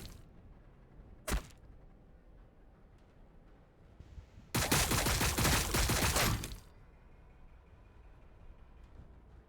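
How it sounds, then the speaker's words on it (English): Gunfire in the Warhammer 40,000: Battlesector video game: one sharp loud shot, then a dense two-second burst of rapid fire over a low rumbling background. "Receiving fire."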